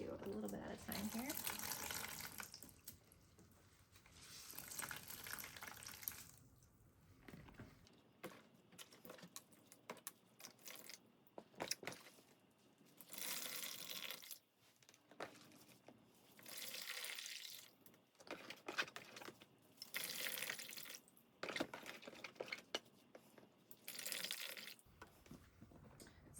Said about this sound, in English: You want to wring out most of the water.